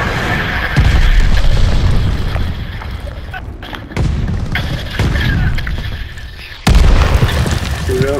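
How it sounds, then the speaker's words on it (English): A glide bomb explodes nearby in a combat game, giving heavy, loud rumbling booms that roll on continuously, with further blasts hitting around four and seven seconds in. "Enemy glide bomb incoming."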